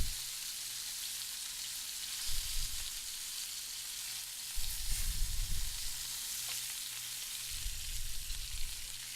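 Chunks of pork shoulder sizzle in a hot pan, a steady bright crackle throughout with a few low thumps as pieces are moved and turned.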